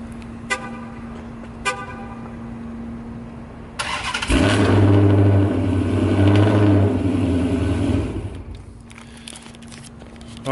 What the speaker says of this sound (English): as you can see, the car starts fine